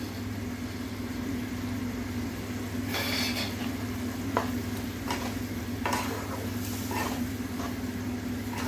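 Pre-fried snails go into a hot pan, a steady close sizzle broken by several louder crackling bursts and stirring scrapes over a constant low hum.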